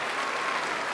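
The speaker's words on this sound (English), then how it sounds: "give yourselves a round of applause" Thousands of audience members clapping at a Carols by Candlelight Christmas concert, steady thick applause throughout, loud and unbroken.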